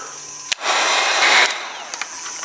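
A steady, loud heat gun blower roar with a hot-air hiss, starting abruptly after a click and running continuously to the end.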